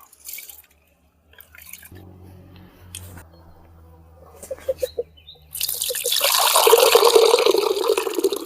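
Water pours into a bowl of pearl millet with a rushing, splashing gush after some soft drips and clinks, growing steady and close.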